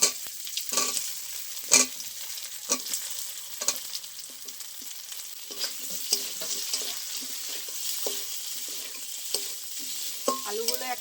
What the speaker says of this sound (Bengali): আলুগুলো 1 মিনিট মতন একটু ভেজে নেব